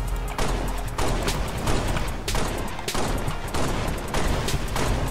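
Video game battle with chain gun fire and explosions, dense rapid bursts of gunfire punctuated by repeated heavy booms, loud and continuous with no voices.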